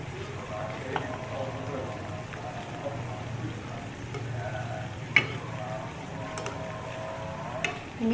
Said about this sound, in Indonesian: Kita goreng pelan-pelan dengan api yang sedang.